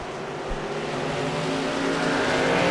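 Several race cars roar around the oval at Myrtle Beach Speedway during a SecondHand Racing League event, a steady loud engine drone that swells slightly as cars close in, with no talk over it.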